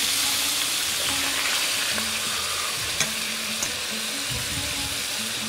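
Meat slices frying in butter in a pan, a loud, dense, continuous close sizzle with faint occasional clinks and stirring, no talking.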